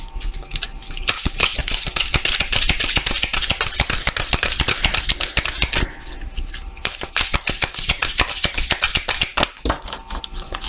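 A deck of tarot cards being cut and shuffled by hand, with a rapid, steady stream of crisp flicks and taps, close and continuous with brief pauses.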